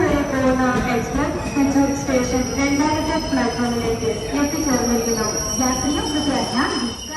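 The Poorna Express train rolls into a station with loud, wavering metallic wheel squeals over a low rumble of rail noise.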